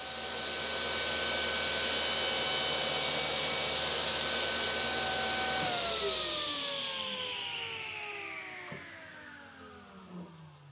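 A table saw with a homemade DIY fence running a test cut: a loud, steady motor whine holds, then winds down with a falling pitch as the blade coasts to a stop, a faint knock near the end.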